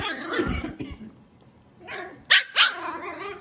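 Welsh terrier puppies, about five and a half weeks old, yelp and bark in short bursts, a couple of sharp high-pitched cries standing out over quieter whimpers and rustling.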